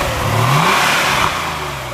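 A 1996 Porsche 993 Cabriolet's flat-six engine revs up close and loud, climbing to a peak and then easing back down over about two seconds.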